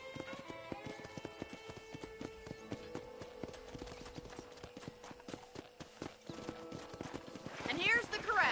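Steady clip-clop of horse hooves in Red Dead Redemption at a ranch corral, rapid and rhythmic, with a brief whinny near the end; speech is faintly present at times.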